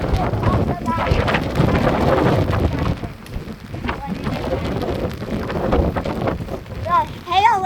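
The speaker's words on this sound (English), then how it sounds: "The hail is hitting." Hail striking during a violent storm with strong wind, heard as loud, rough wind buffeting the microphone with dense pattering on a truck outdoors, while a person talks over it.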